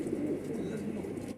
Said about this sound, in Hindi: ये देखो बहुत अच्छे चेहरे में रहेगा कबूतर है मद्रासी